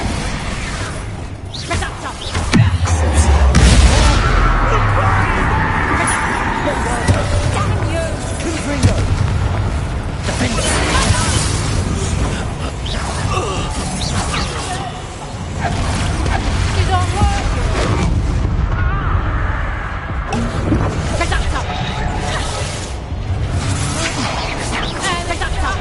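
Explosive spell blasts and booms from the video game Hogwarts Legacy, loud and repeated over continuous background music, with a voice talking at times.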